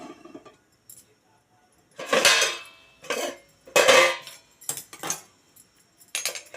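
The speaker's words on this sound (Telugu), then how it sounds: "గిన్నె పెట్టుకున్నాను." A metal cooking pot set down on a lit stove, several separate clanks and clinks of metal on metal, close and irregular, with no talking.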